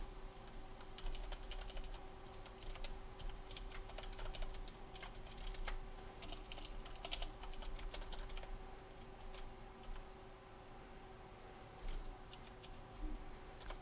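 Typing on a computer keyboard, a steady flurry of close key clicks over a low constant hum.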